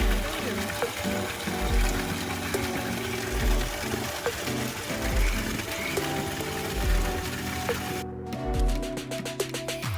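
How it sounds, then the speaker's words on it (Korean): Steady rushing of water falling from an artificial waterfall at a campground fills the scene, continuous and fairly loud, with a voice murmuring faintly beneath and low thuds recurring. "시원한 물소리를 들을 수 있었습니다."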